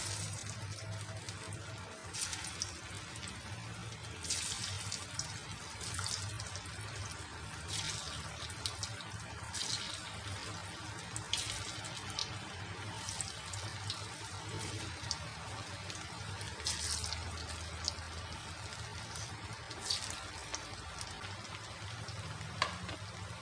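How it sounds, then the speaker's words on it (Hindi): Potato chilli garlic nuggets frying in hot oil, a continuous close crackle and bubbling with irregular sharper pops throughout, no talking. "अब चलिए इसे हम फ्राई कर लेंगे। फ्रेंड्स, ऑयल हमारा काफ़ी गर्म हो गया है।"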